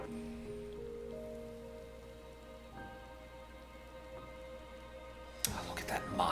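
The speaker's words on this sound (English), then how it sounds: "Of course it's fucking raining." Soft rain patters continuously in the video game Final Fantasy XIV, faint and steady beneath sustained musical tones, with a louder burst of sound near the end.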